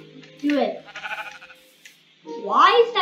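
Sheep bleating in Minecraft Java Edition, a couple of wavering nasal bleats with short gaps between them, close and clear, with a voice talking alongside.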